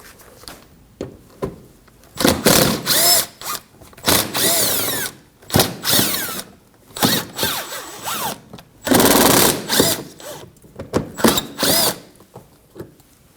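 A power drill takes 5.5mm bolts off a Ford Edge in a series of loud, close whirring bursts, each a second or two long, separated by short pauses and light tool handling, with no voices.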